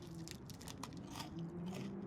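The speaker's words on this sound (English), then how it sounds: "We have crunchy stuff that sounds pretty crunchy." Crunchy food being bitten and chewed in The Long Dark survival game, a run of crisp crunching bites over a steady low ambient hum, close and moderately loud.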